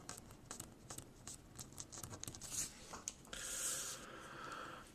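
Marker or chalk writing in a short math lesson, with soft, irregular scratching strokes close by and a brief sharper squeak, then a steadier hiss near the end.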